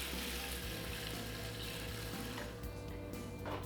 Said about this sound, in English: Then I add 3 cups of water.